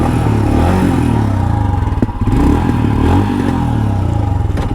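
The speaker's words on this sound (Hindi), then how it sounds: "इसका एग्जॉस्ट नोट सुन लेते हैं" 2021 Royal Enfield Himalayan motorcycle idling with a steady, loud, thumping exhaust note and a brief dip and swell of revs midway, close to the bike.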